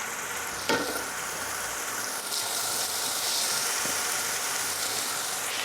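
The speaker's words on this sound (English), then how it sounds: "now we need to add the steaks into the skillet and cook for about 3 minutes on each side until a golden" Salisbury steaks frying in a cast iron skillet give off a steady, dense sizzle and hiss that swells slightly partway through, with a brief crackle near the start and no voices.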